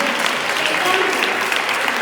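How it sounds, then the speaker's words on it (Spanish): Applause for two performers at an orchestra rehearsal, a steady wash of hand clapping filling the whole moment at even volume. "Un aplauso para ambas."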